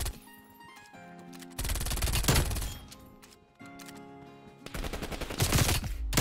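MAC-10 submachine gun fire in Call of Duty Cold War: dense, rapid full-auto bursts, loud and close, broken by short pauses between strings of shots, with no talking.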